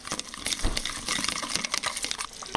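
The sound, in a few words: water poured into cooking pot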